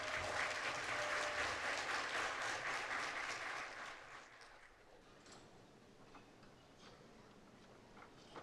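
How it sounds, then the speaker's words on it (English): An audience at a Native giving conference plenary applauds traditional singers of Southern California. The clapping is steady and full for about four seconds, then fades to scattered claps and quiet room noise. "Give them a round of applause"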